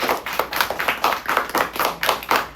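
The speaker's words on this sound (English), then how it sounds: "Clap for her." A second-grade classroom of children claps together for a classmate, sharp, close, rhythmic claps in a steady beat, about two per second and fairly loud, with no talking.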